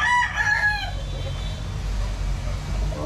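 A gamecock broodcock bought from a game farm gives one loud, close crow at the start, then a quieter background hum with faint outdoor noise.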